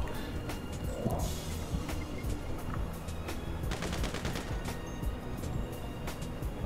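Gunfire in GTA on PS4: rapid, overlapping shots and bursts of automatic fire, fairly faint and continuous under a busy game soundscape.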